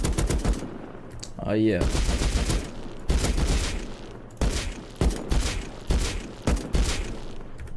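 Gunfire in the survival game Rust booms out as loud bursts and single heavy shots, boosted and bass-heavy, with a voice briefly reacting between the volleys.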